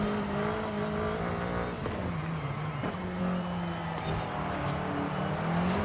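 A bubble car in the Forza Horizon 5 video game accelerates out of corners, its small engine buzzing steadily with pitch shifts and brief drops as throttle eases, near and continuous.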